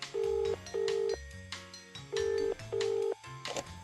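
Telephone keypad tones in the video game Escape from Ever After: four loud, steady dialing beeps in pairs, separated by short gaps and faint background clatter, with no voice.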